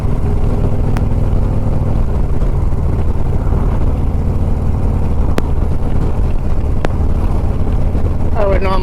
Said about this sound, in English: I'm surprised at how powerful this motor is.